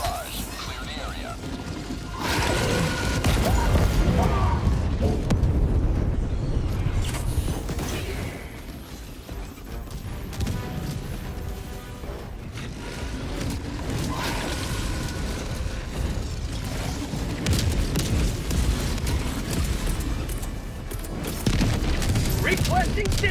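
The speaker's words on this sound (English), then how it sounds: "Firing orbital barrage. Clear the area." Orbital barrage strike in the Helldivers 2 shooter game on Super Helldive difficulty: continuous heavy booming explosions and rumbling blasts rolling on without pause, with voices talking over the bombardment.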